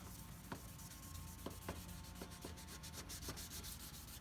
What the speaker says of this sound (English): Kind of like sanding here, basically sanding